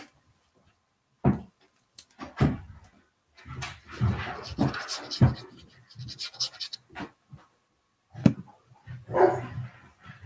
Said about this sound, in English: Oh, doggy want their dinner.